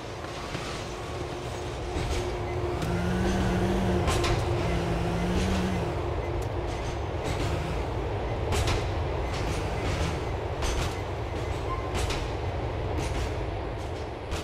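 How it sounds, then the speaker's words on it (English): A train rumbles past in the Grand Theft Auto game, a dense continuous roar with rhythmic rail clatter, over engine noise and a brief horn-like tone. "That's the train."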